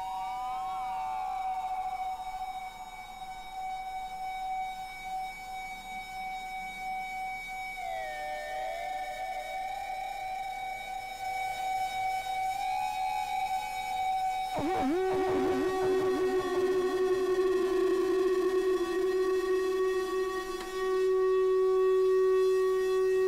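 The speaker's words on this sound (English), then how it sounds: "So if I then chuck in some distortion and some of this crazy feedback" A Soma Lyra 8 drone synthesizer pushed through distortion and feedback gives loud, sustained, wailing tones that glide and bend in pitch like a siren, with a harsher, denser burst midway before settling into a steady high drone.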